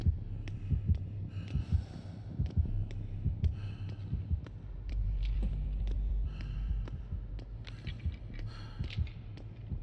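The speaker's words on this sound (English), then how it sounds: "already got the heartbeat" Low, rhythmic heartbeat thumping steadily throughout, the terror-radius warning of an approaching killer in the video game Dead by Daylight, with a droning hum and faint scattered clicks above it.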